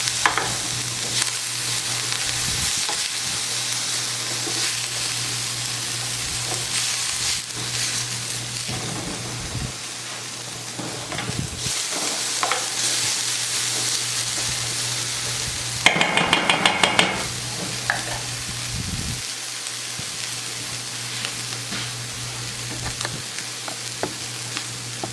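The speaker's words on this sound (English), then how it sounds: "we're just going to let this cook for a little bit and let our veggies" Vegetables cooking down in a pan for Puerto Rican paella give a steady loud sizzle throughout, with a low hum beneath and occasional clanks of a utensil against the pan, including a brief rattling burst midway.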